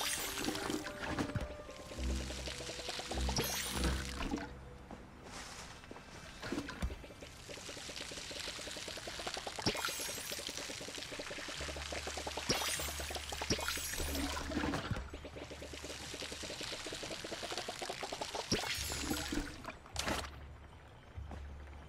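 Water being drawn in Palia, heard as repeated pouring and gurgling splashes in bursts over a steady game soundscape with low musical tones, fairly close and moderately loud, with no speech.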